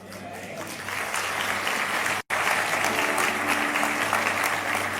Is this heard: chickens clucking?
no